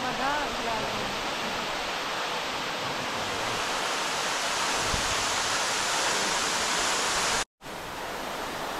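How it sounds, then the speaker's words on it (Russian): A waterfall called Seit roars in a steady, dense rush of falling water, loud and continuous throughout, with a brief voice early on. "Это водопад, который называется Сейт."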